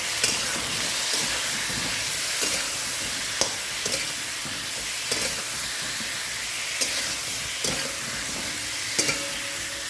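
Raw mango chutney frying in a pan with salt and turmeric, a continuous soft sizzle and hiss broken by occasional scraping clicks of a spoon stirring against the pan.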